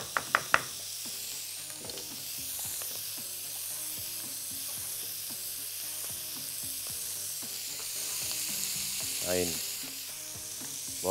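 Onions sizzling in a hot pan, a soft continuous fry with frequent scraping and stirring clicks up close, a few sharp knocks at the start and a brief tonal squeak near the end, no voices.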